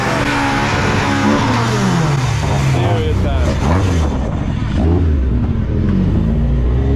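A Ford Escort Mark II rally car with a YB engine revs hard and drops back, rising and falling in pitch, loud and close, with someone speaking briefly over it.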